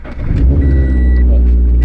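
A Scion FR-S sports car with air-ride suspension, left sitting for a while, rumbles into life and settles to a steady, loud idle close by.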